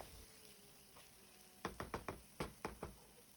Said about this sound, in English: Now fry this until it starts releasing oil